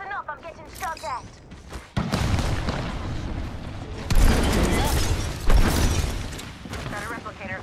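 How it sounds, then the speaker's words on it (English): Gunfire aimed at the player in a video game rattles as a dense, continuous barrage with heavy thumps, while a voice talks briefly at the start and end. "Listen up, I'm getting shot at."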